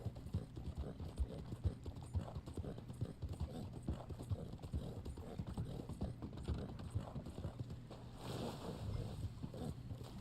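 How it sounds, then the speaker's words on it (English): Hooves of a trader horse in Red Dead Online clip-clop in a steady, continuous rhythm throughout, close and moderately loud against a low background hum. "This is the horse that's available for the trader."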